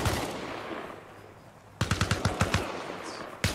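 Friendly-fire machine-gun bursts in the video game Arma Reforger: quiet ambience first, then a sharp run of rapid, evenly spaced shots with a few more cracks at the end.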